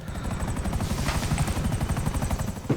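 A helicopter in the video game GTA 5 flies with loud, rapid rotor chopping that pulses steadily throughout, with some sharp gunfire-like bursts mixed in.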